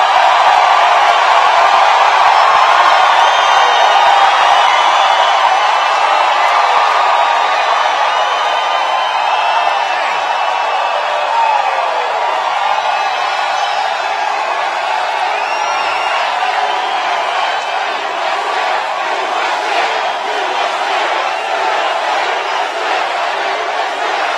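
A huge rally crowd for President Donald Trump in Columbia, Missouri roars and cheers continuously, a dense sustained wall of voices with whoops rising out of it, loud and unbroken.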